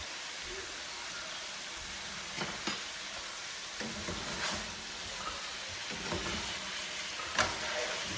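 Pieces of steak sear in a pan for fried rice, a continuous close sizzle broken by scattered stirring knocks and scrapes, with no talk.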